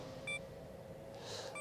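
A camera self-timer gives short, faint electronic beeps, one near the start and another at the end, over a quiet low hum.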